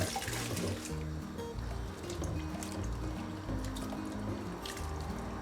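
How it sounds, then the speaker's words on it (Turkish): Okra is washed in a bowl of water, with steady close sloshing, trickling and dripping as the pods are stirred and rinsed, soft and continuous without speech. "Suyu temizlenene kadar yıkama işlemini birkaç kez yapalım."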